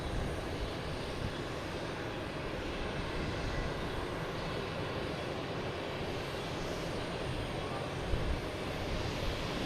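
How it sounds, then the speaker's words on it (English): A Lufthansa Airbus A340 at Logan Airport, a constant broad engine roar at moderate distance that holds steady throughout without talk. "there it is, Lufthansa A340"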